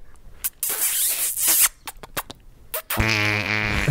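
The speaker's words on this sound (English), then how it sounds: "Nothing like a good fart to make you giggle." Fart sound effect, a burst of noisy sputtering bursts and hisses ending in a buzzy, tonal raspberry-like blast, played loud and close.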